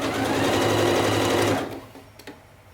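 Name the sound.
sewing machine stitching a collar neckline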